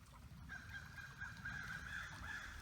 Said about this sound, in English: Maybe the crows are trying to tell me something.